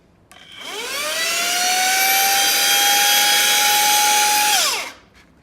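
A handheld vacuum cleaner motor spins up into power mode at 50,000 RPM, a loud, steady high-pitched whine that rises quickly, holds for about four seconds, then winds down, heard alone.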